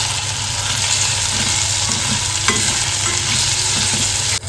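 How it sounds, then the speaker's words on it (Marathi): Onion and tomato sautéing in a pan, a steady loud sizzle with occasional stirring clatter, and a constant low hum running underneath. "टमाटर पण चांगला परतून घ्यायचा आहे."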